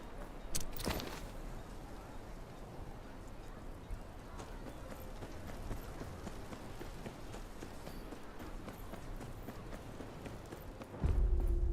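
Horse hooves clip-clop steadily in the Game of Thrones video game, a continuous soft trotting rhythm over ambient game sound, with a louder thump near the end.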